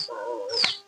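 A dog whimpers close by in a brief, high, wavering whine that rises and dips over about a second, with no talk.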